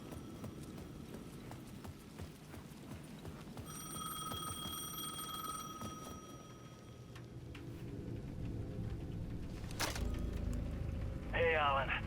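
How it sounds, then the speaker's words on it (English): A payphone bell in Alan Wake 2 rings in steady bursts over footsteps and ambient game noise, with some clatter and a short burst of chatter near the end. "The payphone at the edge of the plaza was ringing again."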